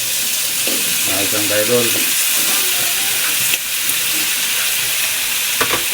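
Vegetables for pakbet hiss and sizzle in hot oil with steady frying noise, punctuated by the scrape of stirring; a voice speaks briefly over the cooking.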